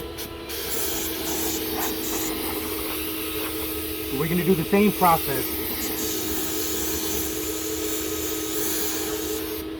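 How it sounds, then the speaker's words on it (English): A Graco 9.5 HVLP Pro Contractor turbine paint sprayer hisses continuously under a steady turbine drone while spraying shutters, with someone speaking briefly partway through over the noise. "we're gonna get to spraying. We'll show you what that looks like."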